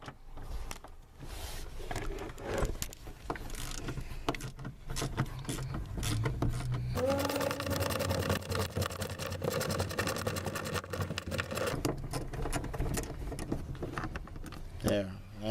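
Screws being removed from a wiper motor panel on a Toyota Sienna: faint, soft clicks and ratcheting mechanical sounds, with a steadier whirring stretch midway, all fairly quiet.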